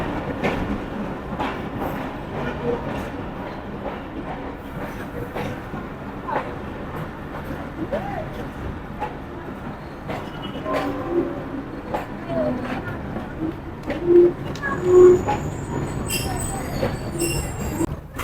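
The Awam Express at Gujrat railway station rumbles along with clattering wheels and occasional high squeals and brief horn-like tones, loud and close, with voices faintly in the background.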